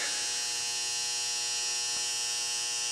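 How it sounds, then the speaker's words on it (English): A steady, droning machine whir with a high electric buzz, running evenly throughout with no voices. "Just the dryer."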